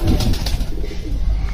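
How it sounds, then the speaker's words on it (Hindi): An old-breed high-flying Deobandi pigeon coos nearby in soft low rhythmic bursts, fairly close and alone without talk. "देखिए क्या खूबसूरत कबूतर है।"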